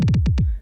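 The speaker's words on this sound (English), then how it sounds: "I made a little fill before the drop. I call it kick rolls," Kick drum roll fill built from one repeated kick sample ahead of a drop in a funk track: five rapid, loud, booming hits in an uneven pattern, then a brief faint tail.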